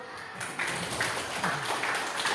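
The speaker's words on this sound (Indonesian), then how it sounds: "Kita tepuk tangan dulu." A classroom audience claps hands briefly, a dense patter of many hands at moderate loudness, with a few louder claps standing out over a couple of seconds.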